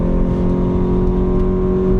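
A low-horsepower car engine revs hard while climbing a hill, a loud, steady droning hum heard from inside the cabin with no pause.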